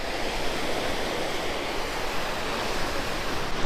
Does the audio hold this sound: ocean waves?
yes